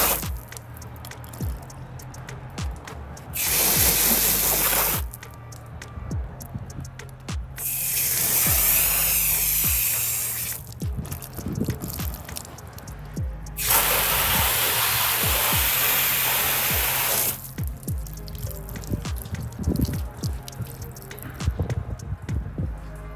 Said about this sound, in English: So we're gonna throw some hose water at it.